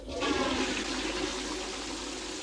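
Chain-pull toilet flushing in an animated scene, a single loud rushing gush of water that continues steadily throughout, with no talking.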